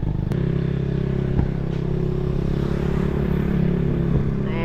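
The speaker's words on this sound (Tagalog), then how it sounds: "Sa ngayon naka-motor kami." A motorcycle is under way on a ride, its engine a steady, close drone that holds level throughout, with occasional faint clatter over it.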